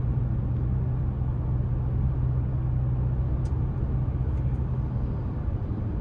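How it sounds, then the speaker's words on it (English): A 2025 Toyota Tacoma TRD Sport with a turbocharged four-cylinder engine under throttle, heard from inside the cab as a steady, deep, continuous rumbling drone at even loudness throughout. "I like the aggressive sound you get. Even though it's a turbocharged 4-cylinder, it still has a bit of grunt to it when you give it throttle."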